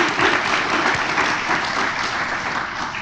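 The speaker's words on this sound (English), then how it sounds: "Round of applause for Sarah." An audience at a Computer Science Education Week kickoff student panel gives steady, dense applause that holds at an even loudness for the whole stretch.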